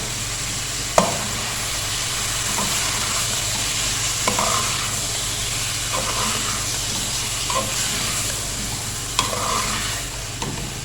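Finely chopped potatoes sizzle steadily in a pan while a utensil stirs them, with sharp scraping clinks every couple of seconds over the continuous frying hiss.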